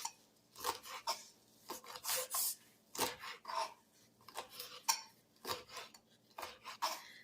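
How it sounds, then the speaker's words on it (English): A knife roughly chops white vervain plant on a board, giving faint, close, irregular bursts of chopping and scraping in quick clusters. "I'm just going to give it a coarse, rough chop."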